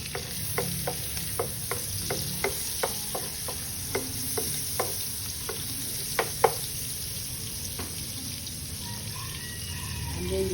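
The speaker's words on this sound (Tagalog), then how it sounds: "And then saute the garlic. Then the onions." Garlic and onions sizzle steadily in a pan, with a spoon tapping the pan in a regular series of sharp clicks above the frying hiss.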